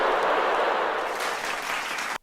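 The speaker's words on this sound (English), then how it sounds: "There's a little bit of clapping at the end there." Light scattered clapping from a small audience during a podcast, a soft steady patter of hands that stops abruptly at the end, with no talking over it.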